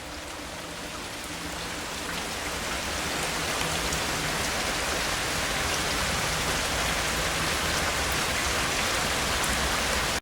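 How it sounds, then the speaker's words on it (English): Rain falls steadily outside at a camp on a very cold night, a dense continuous hiss that swells slightly and stays unbroken, with no voices. "I just want you to hear the rain, people."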